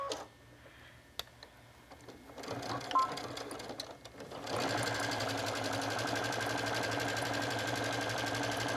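A sewing machine stitches a sturdy bag handle, starting after some quiet handling noises and then running steadily and close at an even, rapid rate for several seconds without pause.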